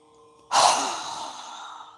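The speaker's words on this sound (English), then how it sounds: "exhale through our mouth with a strong exhale, releasing all of the air at once" A strong, forceful exhale through the mouth during a yoga breathing exercise: one loud, breathy rush of air that starts suddenly and fades slowly over about a second and a half.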